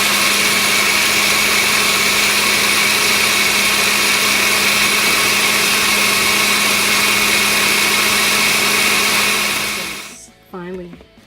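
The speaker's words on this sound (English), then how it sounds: "I'm going to pour the rice water and the rice into the blender and blend everything to a smooth" A blender runs loud and steady, grinding soaked rice with water for horchata, a constant high whir that cuts off near the end, followed by a brief quieter clatter.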